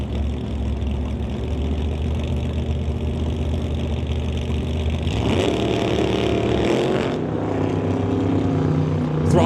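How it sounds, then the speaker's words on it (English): Drag racing cars, a Chevy II and a Ford Mustang, hold a steady loud engine drone at the line, then throttle up hard into a rising roar of launch midway through. "Warren Jacobson brings up the Chevy 2 to race Jerry Epp. In the Ford Mustang"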